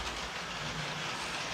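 An On30 scale model train locomotive hauling a string of cars along a layout, a steady soft rolling rumble with faint clickety-clack and hiss, quiet and continuous over a brief stretch, with no talking.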